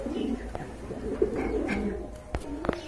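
A pair of racer pigeons coos in low, throaty repeated phrases at close range, with a few sharp clicks and brief rustling sounds breaking in near the end.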